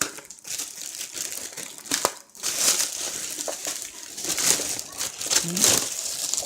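Packaging of a Xiaomi Mi robot vacuum being opened by hand, giving irregular crinkling and crushing of cardboard and plastic close by, with brief rustles and tearing bursts throughout.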